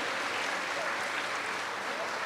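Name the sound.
applause for Dr. Asri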